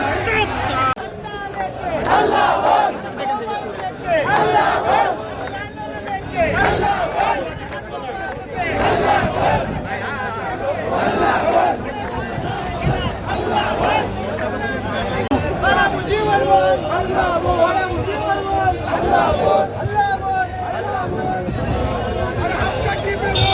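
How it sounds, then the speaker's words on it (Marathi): A large crowd at a protest march in Pune in the rain fills the air with dense, continuous voices and rhythmic group shouting, loud and close, with babble layered throughout. "खूप मोठी गर्दी आहे, बघू शकता।"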